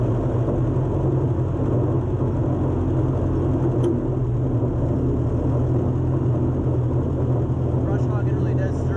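A Ford 8N tractor runs down a road with a steady low engine drone and rattle, a constant moderate hum throughout.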